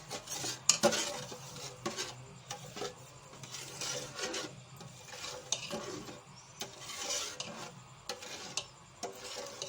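A spoon stirs milk and sugar in a pot while homemade rabri cooks, giving soft repeated scraping and rubbing strokes with occasional light clinks, close but fairly quiet.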